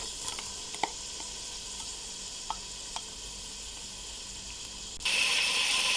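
Onion and chillies frying in margarine and a little oil, a steady bright sizzle with a few small pops, swelling abruptly louder near the end as more hits the hot pan.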